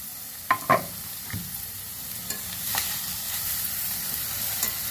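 Grated carrot frying in a pan for carrot rice, with a steady soft sizzle and a few sharp scrapes of stirring near the start, then quieter hissing on its own.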